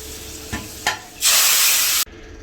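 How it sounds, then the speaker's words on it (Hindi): Hot tempering is poured into dhaba-style mutton daal off the flame. A couple of soft clinks come first, then a loud, close sizzle bursts up and holds for nearly a second before stopping sharply. "बस मैं फ्लेम ऑफ कर देती हूँ और अब इसमें भगार लगाती हूँ।"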